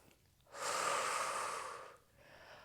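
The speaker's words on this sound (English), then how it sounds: "Breathing in through the nose and out through the mouth." Slow, controlled breath during a full-body Pilates workout, first a faint inhale and then a long, steady, close exhale of about one and a half seconds, followed by a softer trailing breath.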